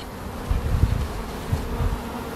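Honey bees buzz at a traditional basket hive in a low, busy drone, swelling and fading as insects pass close by, with no voices present.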